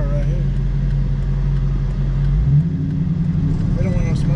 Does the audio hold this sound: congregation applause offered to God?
no